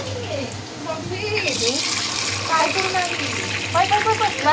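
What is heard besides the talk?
water being poured into the pot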